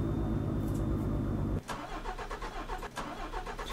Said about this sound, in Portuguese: Só que esse caminhão aí fica morrendo demais